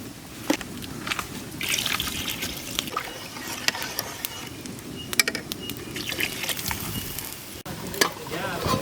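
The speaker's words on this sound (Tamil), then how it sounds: "இப்போ நம்ம இதில் தண்ணி கொஞ்சம் ஊற்ற" Water trickles and pours steadily into a pot of country chicken curry, a continuous liquid splashing with a few clinks of metal, fairly close.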